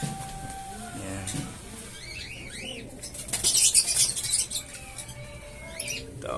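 Breeder racing pigeons in a loft give soft, close wing flaps and faint coos and calls, with a louder burst of flapping midway, under a low murmur of background activity.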